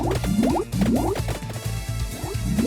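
A bubbles spell in Vampire Survivors: Ode to Castlevania produces rhythmic, watery gurgling pops in repeating bursts over a steady looping game tune, close and fairly loud throughout.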